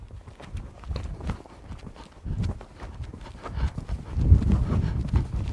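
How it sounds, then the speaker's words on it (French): A horse working at the canter in a riding session, hooves thudding in an irregular rolling rhythm on soft ground, moderately close, with some rustle and creak of movement. "je vais travailler un petit peu au galop"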